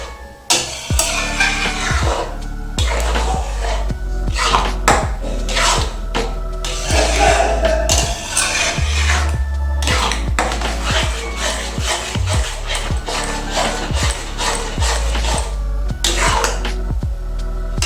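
Metal utensils scrape and clatter against a metal wok in a steady stirring rhythm as rice chips cook over a medium gas flame, with a low continuous hum, close and fairly loud.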